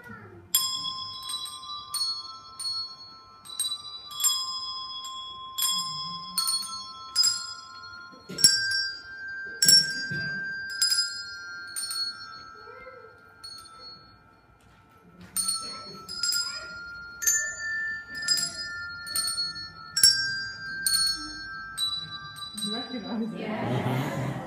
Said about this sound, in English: when I look at you, I'm playing your bell